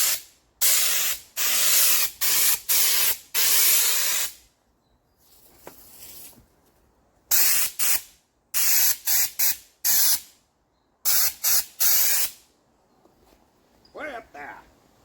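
Loud bursts of spray paint hissing from a can while painting a truck from about three feet away, several long and short blasts with brief pauses between them, up close.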